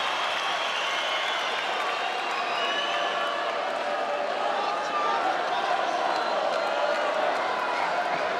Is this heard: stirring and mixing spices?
no